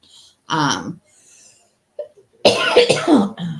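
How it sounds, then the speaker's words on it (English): Several harsh coughs up close, a short burst, a pause, then a longer fit of rough coughing. "I can't stop coughing."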